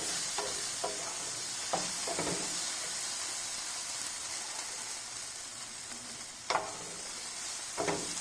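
Okra cooks in a pan with a soft, steady sizzle and hiss. A few scraping strokes of a spatula cut in now and then, one a bit louder near the end.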